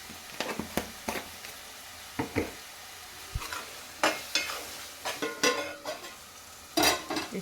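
Masala with turmeric frying in a pan, heard as intermittent close scraping and stirring strokes with a soft sizzle between them, the bursts coming irregularly at moderate loudness.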